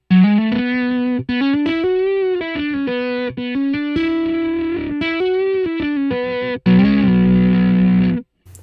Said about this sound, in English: that mixed in with that dirty sound, I think really kind of makes it real nice